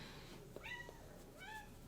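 A cat meows loudly from behind a door, two drawn-out, rising-and-falling cries heard alone against a faint room hiss.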